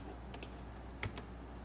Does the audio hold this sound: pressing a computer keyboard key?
yes